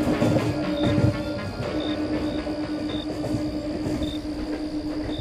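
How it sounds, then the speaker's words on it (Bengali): A Howrah–Katwa local train rumbles past close by, its steady roar carrying faint rhythmic clicks and a thin, recurring wheel whine, with no voices over it. "তখন ট্রেনটা পাশ পেরিয়ে ঢুকছে"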